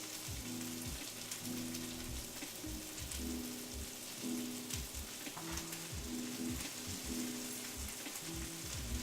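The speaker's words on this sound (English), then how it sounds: "Should get a good sizzle when we put it in." Cabbage sizzles in a pan with shallots, giving a steady, quiet hiss of frying throughout with faint stirring or clatter underneath and no talking.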